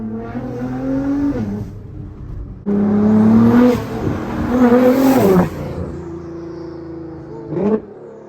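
A loud Nissan GTR engine revs hard in bursts, roaring up and dropping back, with a sharp final blip near the end.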